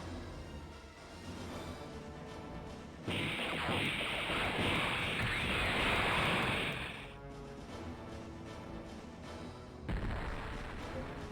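Ship gun crews open fire in the space strategy game Infinite Space: a loud, roaring barrage swells for about four seconds over a steady low hum, then cuts off, with a shorter burst near the end.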